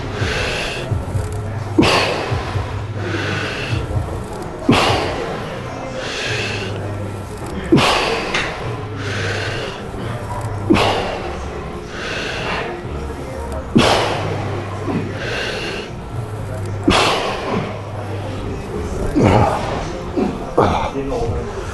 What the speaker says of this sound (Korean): 들어 마시고 내쉬고